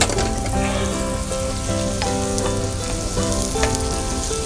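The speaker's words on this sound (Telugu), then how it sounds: "ఆనియన్స్ బాగా ఫ్రై చేసుకోవాలి" Finely chopped onions fry in a pan in oil with a loud, steady sizzle close by, mixed with occasional stirring clicks, while background music plays underneath.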